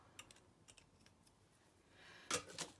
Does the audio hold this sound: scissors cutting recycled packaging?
yes